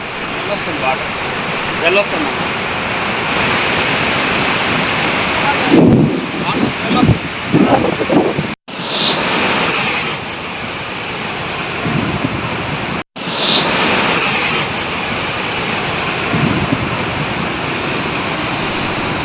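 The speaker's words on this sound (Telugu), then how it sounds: "బొగతా జలపాతం పరవళ్లు తొక్కుతోంది" Bogatha waterfall in heavy flood after torrential rain, a loud, continuous roaring rush of water with wind buffeting the microphone, broken by two brief cuts, with a voice talking over it midway.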